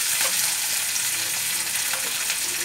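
Tomatoes frying in a pan as they are stirred, a loud close steady sizzle with light scraping from the stirring and no voices.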